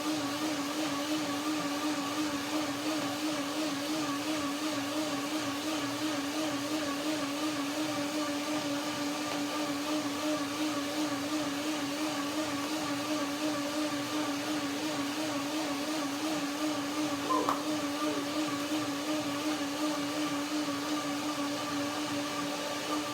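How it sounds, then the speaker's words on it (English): A blender whirs continuously while mixing a creamy vegan dressing, a loud steady motor drone with a strong humming tone that holds unchanged from start to finish, with no talking. "one more blender dance to make this dressing creamy and perfect"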